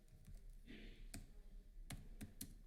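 Code is typed in PHP on a computer keyboard: a few scattered, distinct key clicks and taps, quiet and close, spaced irregularly over faint background noise.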